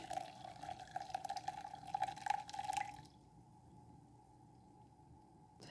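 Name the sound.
lemon water being poured over cucumber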